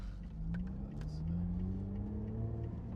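A 2021 Lotus Evora GT engine rises steadily in pitch as it accelerates, a smooth continuous growl heard from inside the cabin.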